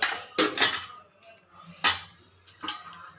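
Lids go onto cooking pots in a home kitchen, four sharp metallic clanks of metal on metal spaced about a second apart, close and fairly loud.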